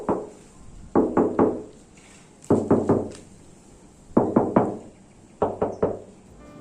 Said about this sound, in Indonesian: kita bisa menggunakan punggung jari kita untuk mengetok bodi mobil